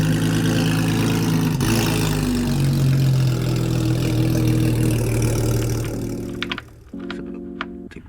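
A Porsche 987 Cayman engine idling as it warms up, a loud, steady low hum with a shifting tone that drops slightly near the end while faint clicks and handling noises creep in.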